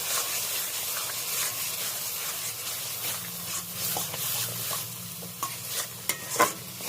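Mashed boiled cabbage being stirred and frying in a pan for a Bengali bharta, a continuous close sizzle with scraping spatula strokes growing more pronounced toward the end, no talking.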